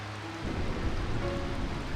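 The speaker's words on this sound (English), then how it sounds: "I find this rain quite unpleasant" Steady rain from the Final Fantasy IX video game, a dense even hiss that swells louder after a quieter first half second and then holds without a break.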